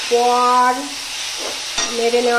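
Snails and eggplant added to spices and stirred in a pan, a loud close sizzle with a spoon scraping, accompanied by sustained tonal whines, the sizzle dipping briefly midway.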